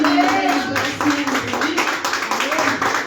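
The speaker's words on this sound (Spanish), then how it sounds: "Dale fuerte aplauso al Señor." A church congregation claps along during a Spanish-language worship service, a brisk run of close hand claps mixed with a voice speaking loudly over them.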